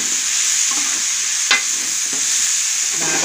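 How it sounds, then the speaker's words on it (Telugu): Eggplant pieces frying in a pan for a mutton curry give a steady loud hiss, with a few scraping stirs of the spoon up close and no voices. "ఈ వంకాయ ముక్కలు కొద్దిగా మనకి వేగుతాయి అన్నమాట"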